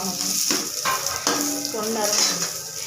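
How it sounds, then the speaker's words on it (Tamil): Garlic and ginger sizzle and crackle steadily in hot oil for a mutton curry, a dense continuous frying hiss with occasional stirring and pan clinks, close and fairly loud, with no talking. "இது வந்து நல்லா வணங்கணும், பொன்னிறமாக வணங்கணும்"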